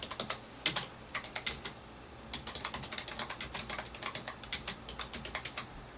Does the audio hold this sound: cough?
no